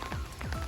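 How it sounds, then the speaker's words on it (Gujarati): A brief burst of steady rain pattering on a surface, close and fairly loud, with no voices. "વરસાદ ચાલુ છે."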